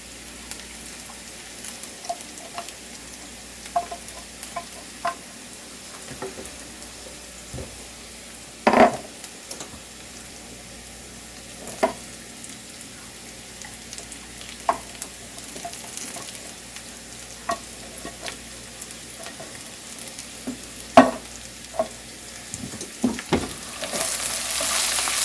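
Beans browning in a frying pan for a classic chili give off a steady sizzle and fry, with occasional sharp scrapes and clinks of a utensil stirring them, and no talking.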